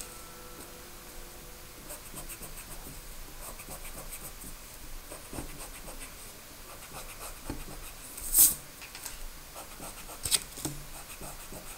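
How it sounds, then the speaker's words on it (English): Pencil lines erased from a two-point perspective tree house drawing on paper: steady, quiet rubbing and scratching over about twelve seconds, with a couple of brief louder scuffs near the end. "make sure you erase those well"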